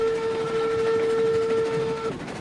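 A steam locomotive whistle in the RailRoads Online train game gives one long, steady, bright blast for about two seconds, then stops sharply against a low rumble of the moving train.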